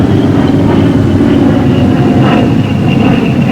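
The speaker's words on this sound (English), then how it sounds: "You're coming in for a normal 3-point landing." A WWII P-47 Thunderbolt fighter plane comes in for a normal three-point landing on a runway. Its engine makes a loud, steady, rumbling drone through the whole stretch, with no voices.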